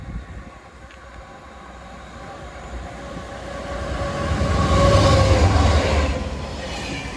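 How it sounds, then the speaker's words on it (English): Freight train on a West Coast Main Line diversion, running from Hanslope Junction to Bescot, passes with a steady rumble that swells to a peak near the end before easing, with no talk over it. "about to pass through is going to be a freight movement running from Hanslope Junction to Bescott."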